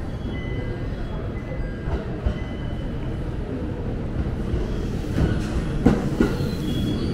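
A train rumbles into Sendai Station steadily, with low rolling noise, faint wheel clatter and a brief squeal near the end as it pulls alongside the platform.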